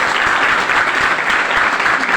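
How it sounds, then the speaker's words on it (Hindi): An audience at a business training session bursts into loud, dense applause, many hands clapping continuously and close throughout. "एक बार जोरदार ताली होना चाहिए"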